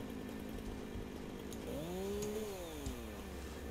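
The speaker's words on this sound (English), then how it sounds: "Now, I'm thinking that we do, you know, the actual trial of the chainsaw." A biofuel-powered chainsaw in the video game Satisfactory idles roughly, then revs up to a rising whine partway through and eases back down, loud and close, with no talk.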